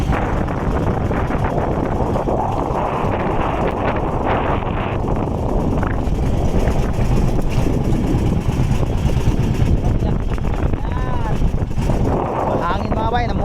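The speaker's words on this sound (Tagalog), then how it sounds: "Hangin mga bay, namuti." Strong storm wind with rain roars steadily into the microphone, a dense low rumble and hiss that never lets up, with faint voices mixed in.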